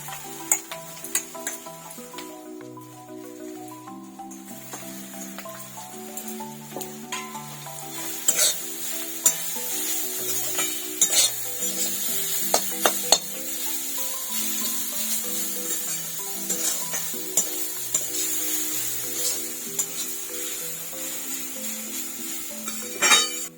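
Boiled vegetables and carrot stirred and sautéed with spices in a pan, a steady sizzle with repeated scraping and clinking of a spoon against the pan throughout, soft music-like tones underneath.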